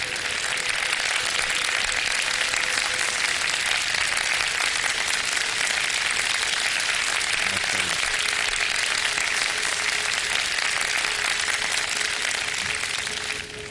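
Studio audience applause for police families on a Ramadan TV show stage, a steady dense wash of clapping that holds evenly for about fourteen seconds before dipping slightly at the end, with no voices over it.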